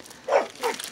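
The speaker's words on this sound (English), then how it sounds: "I'm really sorry about the dogs." Dogs bark indoors, two distinct loud barks about a third of a second apart, close to the listener with no talking over them.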